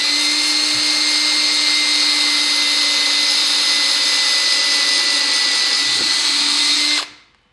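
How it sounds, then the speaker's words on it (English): Hand-held power drill boring holes into wood for scroll saw internal cuts, a loud steady high whine running for about seven seconds with brief dips in pitch, then cutting off abruptly. "We're just going to do our holes, drilling for where we're going to do our internal cuts."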